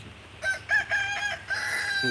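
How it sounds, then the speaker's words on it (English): A pet rooster crows several times in close succession, a bright, loud, harmonic call broken into short bursts, heard near and alone outdoors. "Like he's a bigger man than me, even though he's just a chicken."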